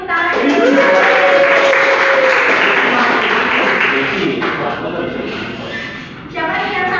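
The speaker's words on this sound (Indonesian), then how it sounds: "kita beri tepuk tangan" A room of people applauds in a dense, even wash of clapping that holds for several seconds, then thins and briefly dips before picking up again, with voices mingled in.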